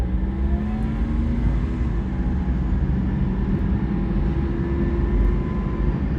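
A 1997 Honda Life G hatchback with a 3-speed automatic drives around town, its engine droning steadily from inside the cabin with a slight dip in pitch as it changes gear, no talk.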